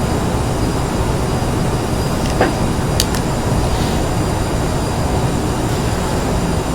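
A CRJ700 jet airliner descends in a flight simulator, its engines giving a steady, loud, broad roar that holds even from start to end, with a couple of brief faint clicks partway through.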